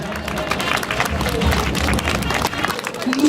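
Applause and crowd noise from an outdoor charity happening audience in Warsaw, a steady dense clapping wash lasting a few seconds at moderate loudness with some voices mixed in.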